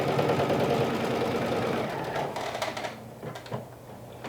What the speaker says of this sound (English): I'm sewing that little V, going about half an inch down into the pocket before I pivot